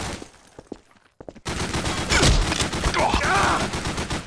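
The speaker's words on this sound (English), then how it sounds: "Why are you shooting me," Rapid gunfire in the Garry's Mod video game, a dense close burst of repeated shots after a brief quiet gap, loud and continuous with a voice heard faintly under it.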